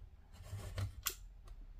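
A craft knife slices through scrapbook paper in a single brief, close, quiet cut, with a faint soft rasp and a small click near the end.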